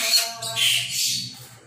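Harsh, raspy bird squawks of a Bali myna repeat several times in a short burst, close and fairly loud.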